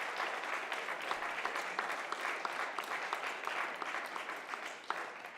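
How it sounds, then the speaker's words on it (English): An audience in the South Dakota Senate chamber applauds Dr. Mitchell, producing a dense, even wash of many hands clapping at moderate distance for the whole stretch, fairly soft, with no voices. "Dr. Mitchell, please give a round of applause."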